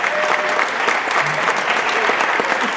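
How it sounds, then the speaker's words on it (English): An audience at a community radio awards night applauds the station's volunteers, a dense, steady wash of clapping from many hands that holds evenly at full loudness for the whole stretch, with no voices breaking through. "give the volunteers a round of applause over here tonight"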